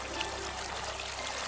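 Bath water flows steadily in a continuous gurgling, trickling rush at moderate level, without pauses or voices.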